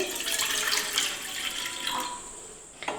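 Half a glass of water pours steadily into a cooking pot for an instant rava mix, a continuous close splashing rush with no talk, tapering off with a small clink near the end.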